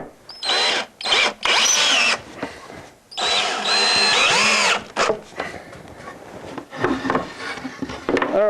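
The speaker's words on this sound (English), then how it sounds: "I'm going to come in and put some screws in here to hold that together." A power drill drives screws into a wooden mold template for an LMI side bender. Repeated close, loud whirring bursts rise and fall in pitch as each screw seats, with short gaps between them.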